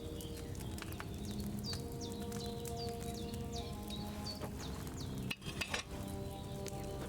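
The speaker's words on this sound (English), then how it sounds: "Hear that bubbling? It's boiling." A potion cauldron bubbles and boils over a flame in the medieval game Kingdom Come Deliverance 2, a steady simmering texture with light clinks and faint birdsong behind it and a brief louder stir near the end.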